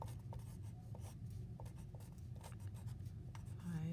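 Pencil scratches on scratch paper while working a long-division problem, with short, quick strokes in an irregular rhythm, close and quiet, alone without talk.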